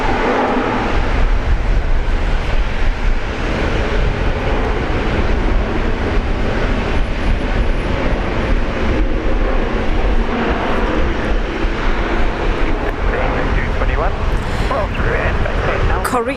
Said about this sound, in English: Korean Air taking off